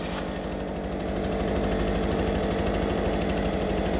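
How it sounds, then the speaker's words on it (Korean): Small engine-powered snowball-making machine running steadily right after starting, a loud, close buzzing engine drone with rapid pulsing and no talk. "근데 시동 걸었더니 눈이 여기로 올라오는데?"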